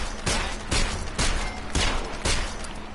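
Webley Mark 6 British revolver in Sniper Elite 4, firing five heavy booming shots at a steady spaced rhythm, each blast loud and close with a long ringing tail.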